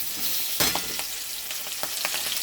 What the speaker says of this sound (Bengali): ওই তেলে আবার এই কচুগুলো দিয়ে দেবো।